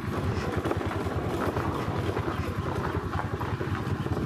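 A steady Royal Enfield motorcycle engine chug rumbles throughout, a continuous low throbbing as it rolls slowly along a rough, potholed dirt road on a hilltop nearby.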